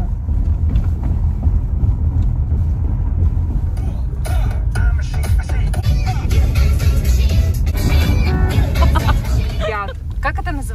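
A car rolls through a village just out of a forest, its steady engine and road rumble loud and close inside the cabin, with people chatting over it throughout.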